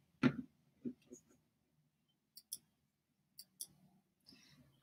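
Several sharp, light clicks from a computer mouse, spaced apart at an irregular pace, with quiet gaps between them and a faint low hum underneath.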